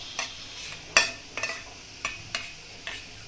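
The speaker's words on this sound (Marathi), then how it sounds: "रताळे आपल्याला असे तुपावर चांगले असे परतून घ्यायचे" Grated sweet potato sautéing in ghee in a kadhai: a spoon scrapes and stirs against the pan in a few separate strokes over a faint soft sizzle, with one sharper metallic knock partway through.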